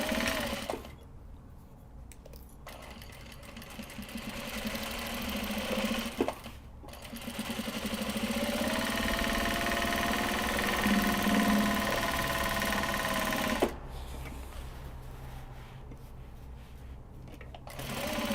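Japanese fabric cake cozies being sewn on a machine, running in long steady whirring stretches broken by a few brief pauses, close and clear, with no talk.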